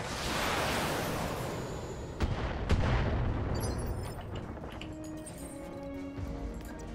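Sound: mech weapons firing in the Battletech video game

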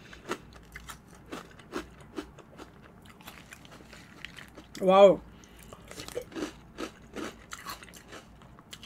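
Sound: chewing a crunchy chocolate snack

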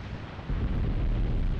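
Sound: mortar shells exploding in Graviteam Tactics: Mius Front video game

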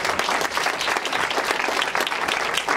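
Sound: audience applause

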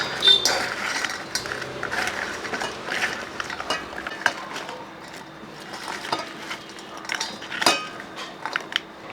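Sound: stirring a sweet seva mixture in a bowl

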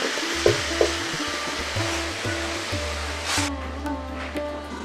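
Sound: sautéing masala with tilapia and taro stolons in pan

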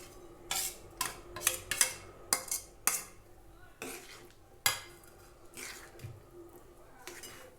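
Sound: stirring rava mixture into sugar syrup

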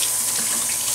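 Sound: water running from tap while washing hands

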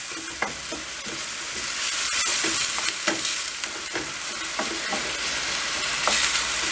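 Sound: sautéing onions and peppers in a pan for menemen

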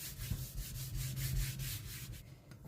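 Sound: wiping an oiled wooden cutting board

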